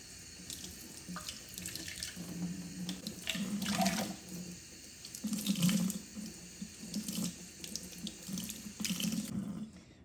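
Tap water runs into a sink while a coffee mug is scrubbed with a coconut fiber sponge, the flow splashing and gurgling unevenly with soft rubbing and clinks.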